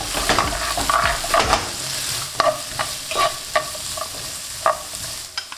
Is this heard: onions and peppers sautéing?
yes